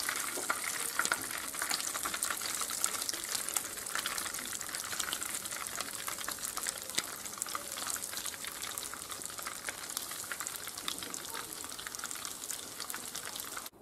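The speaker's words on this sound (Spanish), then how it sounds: "Ya hemos acabado de freír las albóndigas" Meatballs frying in hot oil in a pan, a dense, steady crackling sizzle that fills the whole stretch with busy spitting bursts, close and even throughout, no voices.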